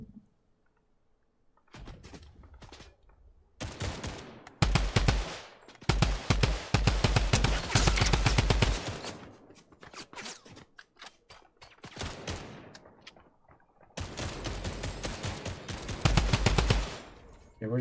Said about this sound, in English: This is like the longest, stupidest firefight ever.